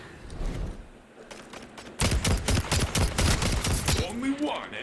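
Scout rifle fired rapidly in an online shooter match, a steady string of loud, sharp shots in the second half over a busy game soundscape, with softer action sounds before it.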